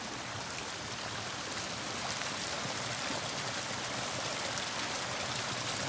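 Creek after a May thunderstorm in Maryland, running beside a trail around a tree: a steady, even rush of flowing water, close and constant, with no voices.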